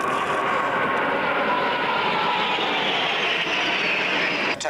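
Display team jets flying their closing formation manoeuvre at the 1992 Boscombe Down airshow, a loud continuous broadband roar that holds steady throughout and drops away briefly at the very end.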